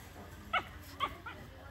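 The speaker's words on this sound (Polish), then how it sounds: "Szczeniaki, tu są jeszcze dwa." Puppies on a beach on Koh Rong, Cambodia give a few faint, short yips and whimpers, three brief high-pitched cries spaced out over quiet background.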